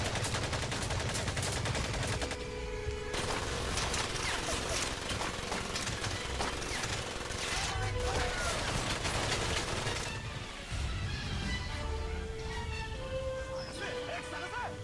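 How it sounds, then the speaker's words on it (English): Gunfire in the World War II shooter Medal of Honor: Pacific Assault, dense bursts of rifle and machine-gun fire rattling almost continuously under voices talking over the battle. "Come on, cover fire."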